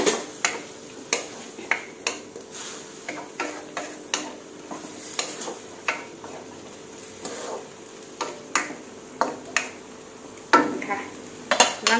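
Fresh bamboo shoots and pork are dry-stirred in a pan, the spatula scraping and clinking against the metal in an irregular rhythm of sharp knocks over a faint sizzle.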